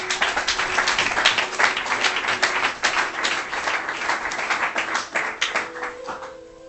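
A church congregation at a French-language service applauds together, steady dense clapping from many hands in a reverberant room, fading toward the end, with no voices over it.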